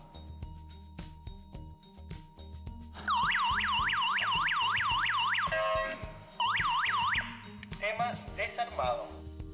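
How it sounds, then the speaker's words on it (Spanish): A WiFi GSM Tuya home alarm siren blares in a loud, rapidly sweeping warble. It cuts out briefly, returns, then shifts to a different sweeping pattern, all over a low, rhythmic background track. "si el sistema está armado, si una puerta se abre, se activará la alarma"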